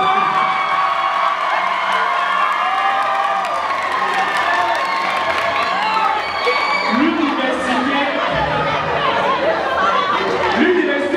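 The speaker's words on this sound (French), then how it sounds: "Est-ce qu'on peut applaudir pour tous les étudiants qui sont dans la salle?" Students in a packed university lecture hall in Yaoundé cheer, whoop and clap in a sustained, dense roar of crowd noise with shouts rising over it.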